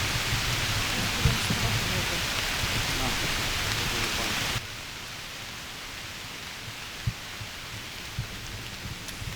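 Rain patters steadily on a wet mountain hiking trail, with a few close knocks and taps, then fades noticeably quieter about halfway through.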